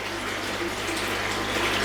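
Air bubbling steadily into a koi breeding tank, a continuous close hiss and fizz of water and bubbles with no break, moderately loud and heard on its own.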